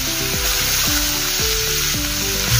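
Chopped onions and cumin seeds sizzle loudly in hot oil for dal makhani, a dense close crackle with no talking. Repeated metallic clinks ring out as a spoon scrapes the pan.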